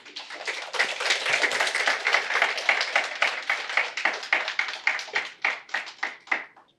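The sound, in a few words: audience clapping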